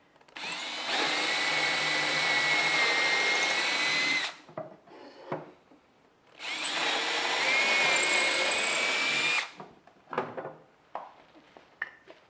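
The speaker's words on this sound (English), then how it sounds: "And then drill your holes." A power drill bores holes in a DIY mobile kitchen island cart, with two long, loud, steady whirring bursts separated by a short pause, followed by clattering handling noises and no talking.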